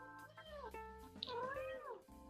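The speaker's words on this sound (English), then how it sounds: "Meow. Meow, meow." A cat meows several times in a quick, close, clear series, with rising and falling wails that stand alone without talk.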